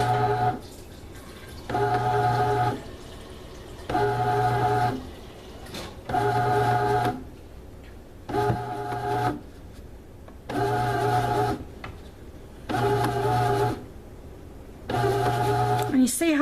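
A bread machine's twin paddles churn flour and water into dough in regular on-off cycles, a steady motor hum and rhythmic scraping that start and stop roughly every couple of seconds, close and alone.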